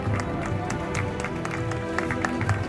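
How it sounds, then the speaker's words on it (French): An audience at a Miss Ivongò pageant applauds a shortlisted candidate, producing a continuous wash of many hands clapping with scattered sharper claps over music and crowd noise. "Applaudissons pour elle."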